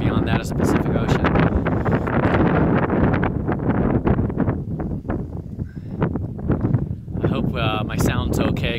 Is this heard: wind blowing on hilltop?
yes